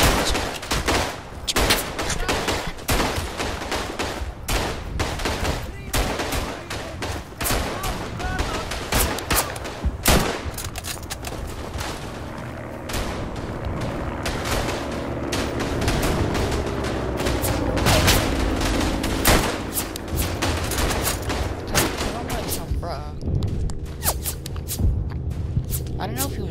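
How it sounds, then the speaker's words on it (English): Rapid gunfire at a trench line in a video game, dense overlapping rifle and machine gun shots crackling nonstop for the whole stretch, near and distant, with a voice talking throughout. "All these people just spawned in this crater. Just shooting everyone at that trench line."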